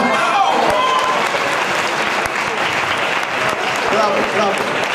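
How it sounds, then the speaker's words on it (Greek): Loud, sustained applause from a crowd at an open squat max-reps bodybuilding challenge, steady clapping throughout with a voice talking over it. "Είναι πολύ ζεστό, ζεστό χειροκρότημα."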